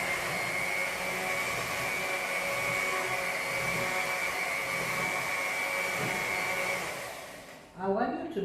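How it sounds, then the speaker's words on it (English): An electric hand mixer runs on low through lemon cake batter with flour, giving a steady close whirr that fades near the end, with a person talking over it. "I want you to notice how I manage the mixer."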